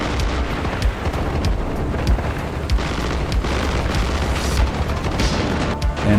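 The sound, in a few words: airstrike explosions in the video game Armored Brigade II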